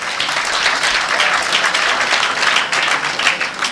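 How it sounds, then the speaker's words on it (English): Audience at a party town hall forum in Kingston and St Andrew applauds steadily with dense clapping, the crowd sound holding an even level for several seconds with no speech on top. "give the Comrade Leader another hand clap for me,"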